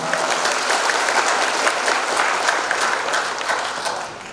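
Sustained applause from a crowd honoring graduates at a university graduation ceremony at Universitas Gunung Rinjani in 2022, steady dense clapping throughout that fades slightly at the end.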